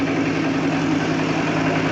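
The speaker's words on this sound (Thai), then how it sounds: "ฟังเสียงรถไถ" Farm tractor engine running in a rice field, a steady close, loud droning rumble at a constant pace with no voices.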